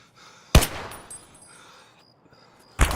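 Two sharp gunshots in a first-person shooter game, fired about two seconds apart, each a loud broadband crack that decays quickly, with quiet game ambience in between and no talking.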